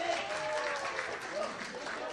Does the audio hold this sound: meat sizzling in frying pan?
no